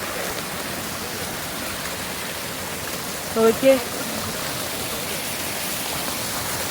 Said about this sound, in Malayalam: ഇത് നമ്മുടെ വലിയ ഷെഡിൻ്റെ അടിയിൽ നിന്നാണ് വരുന്നത് കേട്ടോ ഈ വെള്ളം